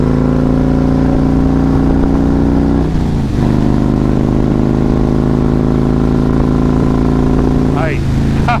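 A Harley-Davidson Road King with a 2-into-1 header rumbles loudly and steadily while riding, with a brief dip around a gear shift near three seconds and a short rise in pitch near the end.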